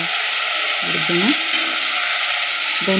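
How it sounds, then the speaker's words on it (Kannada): Green chillies and tomato frying in a pan for palak rice: a loud, continuous, close sizzle, with a few short muffled tonal squeaks or vocal sounds rising above it. "ಮೆಣಸಿನ್ಕಾಯಿ, ಆಮೇಲೆ ನೋಡಿ ಈ ಥರ ಚೆನ್ನಾಗಿ ಫ್ರೈ ಆಗಬೇಕು"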